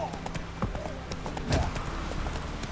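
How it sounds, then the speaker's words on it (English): Horse hooves clip-clop at a galloping pace in The Witcher 3, with steady repeated thuds close by and a brief whinny, while voices speak over the riding. "Run, Roach"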